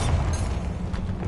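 A Bombarda spell explosion in the game Hogwarts Legacy, a dense, rumbling blast with crackling debris that sustains loudly for its whole brief length, no voices.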